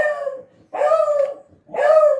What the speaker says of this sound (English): Apparently the beagles are having a barking conniption, so stand by a minute.